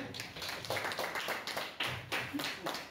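A church congregation claps in quick, rhythmic bursts, many hands together, moderately loud and fairly close. The applause comes in uneven waves with brief pauses between them.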